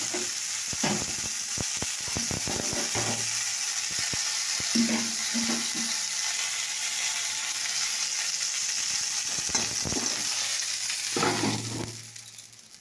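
Steady sizzling of fish frying in a pan, continuous and close, with occasional clinks and scrapes of a utensil throughout.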